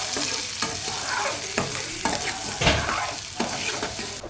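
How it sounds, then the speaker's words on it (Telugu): Onions and cumin seeds frying in hot oil for an egg curry, a steady sizzle broken by several scraping stirs of a spoon against the pan. "ఇప్పుడైతే కప్ ఆనియన్స్ వేసుకుంటున్నాను నేను. కొంచెం మిక్స్ చేసుకోవాలి"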